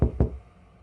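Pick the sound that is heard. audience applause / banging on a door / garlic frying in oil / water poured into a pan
banging on a door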